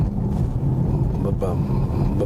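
Mercedes-AMG GT 63 S 4MATIC+, brand new, with a steady dense engine rumble filling the low end throughout, loud and continuous with no clear revs, while a voice talks over it.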